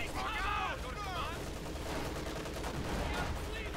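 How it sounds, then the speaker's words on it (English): Gunfire and bomb grenade explosions in Company of Heroes 2, a Soviet versus OKW 1v1 match, sounding as a dense, continuous battle din with crackling shots and bursts throughout, mixed with other game sounds. "Lots of explosions going with that bomb grenade, leaving several conscripts not too healthy."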